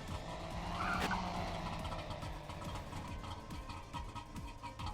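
Car in The Long Drive video game reversing out of a garage, a steady engine drone with a brief tire skid or squeal near the start, loud and continuous with no talking.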